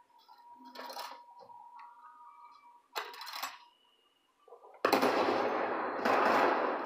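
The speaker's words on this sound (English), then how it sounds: "That's the sniper rifle." Sniper rifle fire in the video game Anthem: a few sharp, loud shots spaced apart, followed by a sustained roaring burst at the end.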